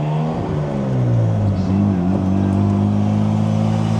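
A Mazda RX-7 engine revs during gear shifts, its pitch sweeping up and down over a few seconds, loud and close, then settling into a steady hum.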